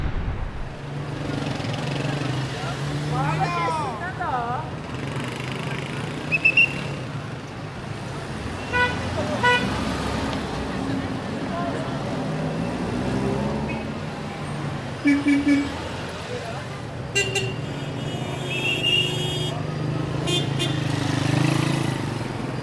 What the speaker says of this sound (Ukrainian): Тут трафік дуже-дуже потужний.